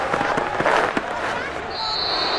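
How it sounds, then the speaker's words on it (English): Victory cannons fire in Madden NFL 22 after a Tampa Bay Buccaneers win over the Indianapolis Colts, with a quick run of sharp booming blasts over a noisy stadium crowd and voices, then a steadier roar. "So fire the cannons."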